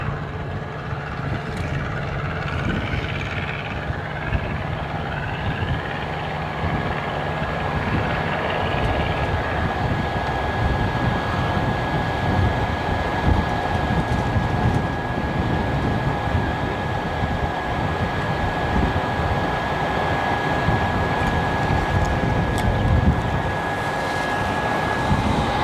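An aircraft flies near Gold Coast Airport, a steady broad engine roar that holds for the whole stretch, with a constant high whine running through it and no pauses.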